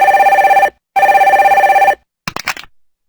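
A telephone rings loud and close in two long electronic trills separated by a short gap, then a brief clatter follows as the receiver is picked up.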